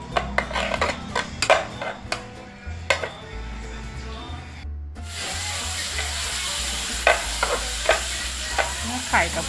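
Egg seasoned with MSG, seasoning powder and sugar is stir-fried in a pan for Thai glass noodles: a run of sharp spatula scrapes and taps, then a loud, steady close sizzle with occasional stirring.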